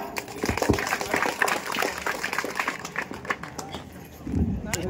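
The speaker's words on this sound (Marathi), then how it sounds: "एकदा मस्त जोरदार टाळे होते जरा" Village audience at a Marathi folk play in Lanja, Ratnagiri clapping unevenly, rising and falling in bursts with talk and crowd noise mixed through.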